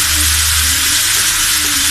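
Pumpkin pieces frying in a pan while being stirred, heard as a loud, dense, continuous sizzle close up with a faint low hum underneath and no talking.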